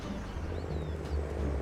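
A tractor with a loud, modified exhaust pipe in the video game Farming Simulator gives a deep, steady, rumbling drone that holds at constant volume throughout.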